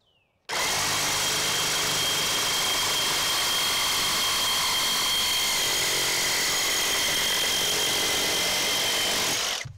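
A Milwaukee reciprocating saw cuts metal, starting abruptly and running at a steady, loud, high-pitched whine for about nine seconds before stopping.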